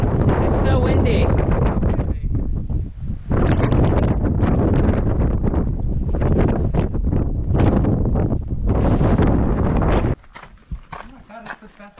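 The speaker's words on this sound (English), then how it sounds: "It's so windy." Heavy wind buffeting a microphone in loud, rumbling gusts, nearly constant before easing abruptly near the end, with talk faintly underneath.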